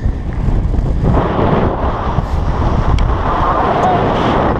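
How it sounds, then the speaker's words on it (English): Strong north wind buffets the microphone with a loud, roaring rumble that gusts continuously throughout, on a winter lakeshore at Pinery Provincial Park, Ontario. "She's windy. Wind's coming out of the north."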